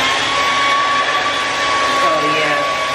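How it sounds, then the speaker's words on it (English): A hair dryer roars with a steady, close whooshing hum and a faint constant whine while a voice talks over it. "let me just blow dry this one"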